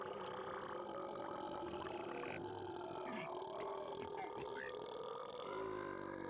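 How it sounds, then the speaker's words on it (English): A long, drawn-out burp in a game trailer rumbles and croaks continuously for several seconds, loud and close, with a gruff, grunting texture. "I forgot how long this burp was"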